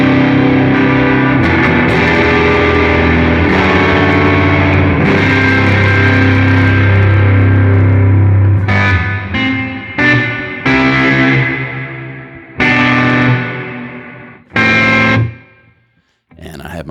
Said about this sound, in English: here's a Timmy overdrive kind of thing